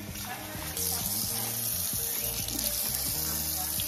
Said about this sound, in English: Let me put some water in this aloe vera plant